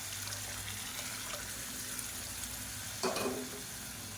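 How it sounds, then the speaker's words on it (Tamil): Water poured into sambar cooking in a pan: a soft, steady frying hiss first, then a short splashing gush of water about three seconds in that quickly settles back, with no talk. "இப்போ தண்ணி சேர்த்துக்கலாம்."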